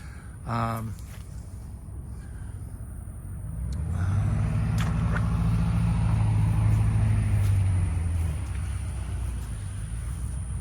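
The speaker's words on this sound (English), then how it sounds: "It's our neighbors, lovely neighbors. Their diesel trucks." Neighbors' diesel trucks passing by outside, heard as a low rumble that swells to a loud, steady drone through the middle, then eases slightly, with a brief tonal engine or brake sound near the start.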